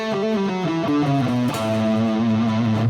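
Electric guitar with a distorted, effects-driven tone playing the Mixolydian mode as single notes, a clear stepwise run of sustained pitches played alone and loud, no voices.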